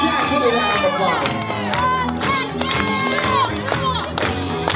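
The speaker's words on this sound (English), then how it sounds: "Give Jackson a round of applause." A lively bar mitzvah reception crowd cheering and shouting with some clapping, loud and continuous, while a voice calls out over the noise.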